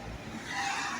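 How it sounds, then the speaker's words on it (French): A car drives off out of a residential street, a steady broadband engine and tire rumble that swells slightly toward the end, moderately close, with no talking. "Il y a une voiture, elle est sortie de ma rue"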